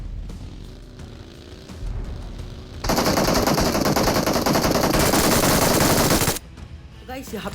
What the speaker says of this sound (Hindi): सामने की ओर से फायर आता है, छोटा सा फायर